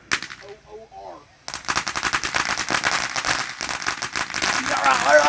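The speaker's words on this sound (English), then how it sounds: "That's a firework!" A consumer firework goes off after a brief quiet pause, bursting into a loud, rapid string of crackling pops like fast gunfire that keeps going to the end, close by.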